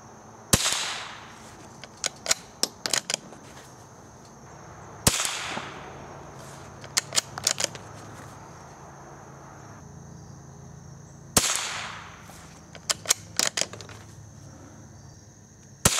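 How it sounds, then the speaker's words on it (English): Remington Subsonic .22 plated hollow point cartridges fired at a target, several sharp spaced shots, some crisp and close, with quiet insect-like ambience between them. "I'll be shooting at the top target first."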